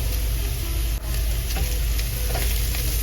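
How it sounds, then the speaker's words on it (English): Ginger, garlic and masala spices with turmeric, chilli powder, garam masala and pepper frying in a pan, a dense, loud, continuous sizzle close up with a brief dip and faint stirring scrapes. "You might want to turn down your heat to fry down this masala so they don't get burned"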